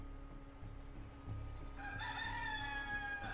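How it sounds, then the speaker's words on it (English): Rooster crows in a PC video game, a clear harmonic call rising near the end over a low steady in-game background hum. "Rooster."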